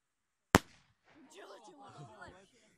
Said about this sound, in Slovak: Červená ohnivá Grácia, zlomila sa mi tyčka, takže len polovica z nej.